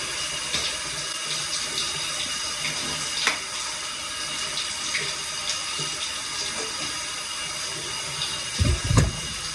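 Tap water runs steadily from a faucet during a hair wash with a shampoo brush head massager, a continuous hiss with a brief louder splash near the end.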